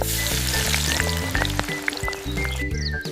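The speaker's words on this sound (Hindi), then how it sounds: "उसके बाद मछली के कटे हुए टुकड़े डाल दो। इन्हें भी अच्छे से भूनने दो।" Tuna fish pieces fry with spices and onion-tomato paste in a miniature pan, a steady close sizzle crackling throughout with soft intermittent clinks of a tiny spoon, no talking.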